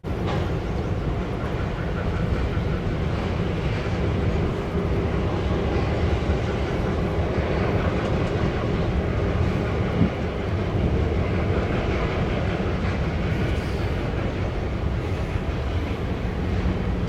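Two locomotive units reversing slowly on elevated track at Gary's Pine Junction, a steady low engine rumble with wind buffeting the microphone throughout, no voices.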